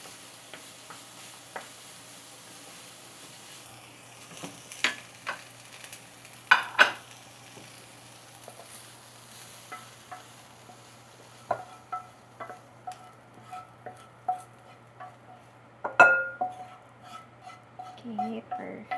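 Celery, bacon, onion and garlic cook in a pan with a faint sizzle under scattered stirring scrapes and utensil clicks against the pan, some louder knocks clustered midway and near the end.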